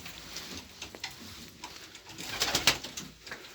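Soft coos of performing pigeons repeat through a busy, rustling poultry coop, with a few sharper flutters and clicks near the end.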